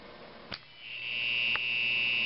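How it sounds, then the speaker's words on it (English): A meter's continuity buzzer, sounding as a contactor's contacts close a circuit, gives a steady high-pitched electronic tone that starts after a couple of faint clicks and holds steadily to the end. "as you can tell by the buzzer from the meter"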